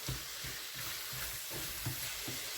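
Chunks of eggplant and meat with tomato paste sauté in a pan: a soft, steady sizzle with faint stirring knocks and scrapes at irregular intervals.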